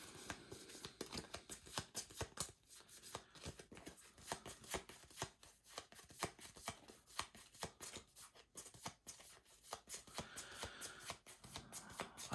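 A deck of Arkham Horror card game cards is shuffled repeatedly at close range, a quiet run of rapid riffling flutters and soft slaps in an irregular, continuous rhythm.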